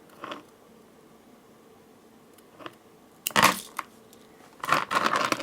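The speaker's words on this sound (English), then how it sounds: "We can cut the thread" Scissors snip through beading thread for handmade jewelry, giving a few short, close crisp cuts with quiet pauses between them.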